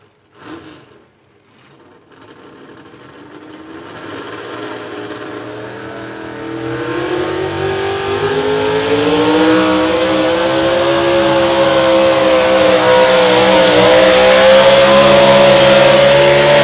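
A modified 4x4 Ford pickup named Stroker revs and roars during an outlaw truck pull, its engine note climbing steadily from a low start into a loud, sustained high-pitched howl that builds over the full run.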